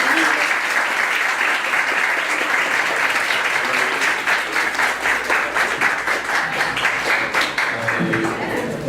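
A conference audience breaks into steady, dense applause that stays loud and even for several seconds before easing slightly near the end.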